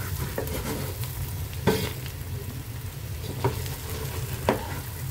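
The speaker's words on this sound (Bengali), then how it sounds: "এই যে নেড়ে চেড়ে আমি এগুলো নেড়ে চেড়ে ভাজা করে নিয়েছি" Bitter gourd stir-fried with lentils in a pan, a steady close sizzle of frying with a few sharper scrapes and clinks as the pieces are turned, no voices.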